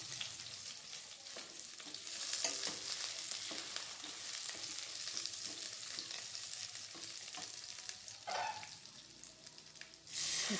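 Green chilli brinjal curry being stirred in a pan, soft steady sizzling with scraping spoon strokes throughout, a few louder clatters near the end, no talking.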